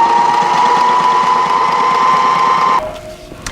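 A Sailrite heavy duty industrial sewing machine stitches a seam in black material, its needle mechanism clattering in a fast, even rhythm close by, then stopping abruptly near the end, leaving a brief lower whir.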